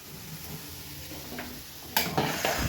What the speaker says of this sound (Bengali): সয়াবিনের আলুগুলো ভেজে নিচ্ছি সুন্দর করে লাল লাল করে